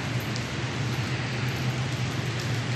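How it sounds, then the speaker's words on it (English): Steady rain falling outside a shopping mall during the monsoon season, a dense, even hiss with a low background rumble, continuous throughout and free of talk. "It's raining outside."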